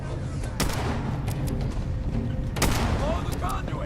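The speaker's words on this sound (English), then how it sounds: "It's a gun." Gunshots from the video game Fallout 4 ring out as sharp separate cracks spread over a few seconds, with talking voices in between.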